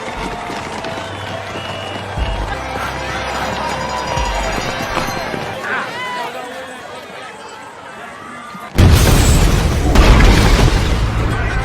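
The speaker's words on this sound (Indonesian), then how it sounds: "terjadi dua ledakan bom di tengah kerumunan penonton di garis finish" A bomb explodes among a crowd of spectators at a marathon finish line in the film Stronger, a sudden loud boom that cuts through crowd chatter and running, with noisy commotion continuing afterward.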